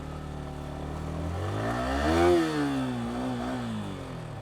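A motorcycle engine revs while the bike pushes through water on a road tour to Sunamganj, its droning pitch rising to a peak and then settling, close and steady.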